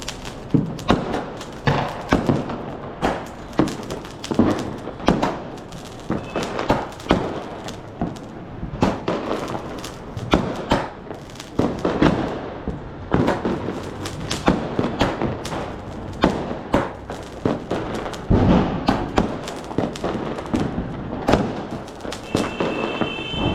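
A 12-shot Diwali firework cracker bursting in a rapid, continuous barrage of loud pops and crackles with booming thuds, dense and relentless throughout, with no speech.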